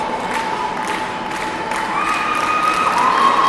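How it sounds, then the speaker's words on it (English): A crowd roars steadily in the gym at an OAC women's college basketball semifinal between the Baldwin Wallace Yellow Jackets and the Ohio Northern Polar Bears, a sustained, distant wash of cheering with faint whistling tones over it. "As you hear the crowd roar"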